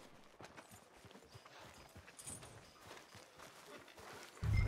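Horse hooves clip-clop at a steady walk in the Red Dead Redemption 2 video game, a faint continuous patter of soft strikes under light ambient noise, with a sudden louder thud at the very end.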